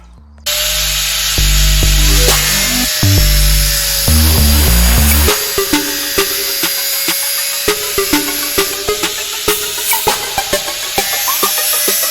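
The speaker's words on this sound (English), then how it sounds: "we're going to start cutting round for where the window needs to go" A power tool cuts into a T5 camper van body panel to open a space for a bonded window. It gives a steady, loud, high-pitched whine, followed by a run of sharp clicks and taps.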